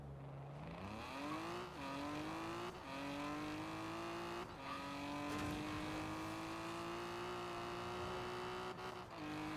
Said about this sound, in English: just have a look at how fast this car accelerates when fully upgraded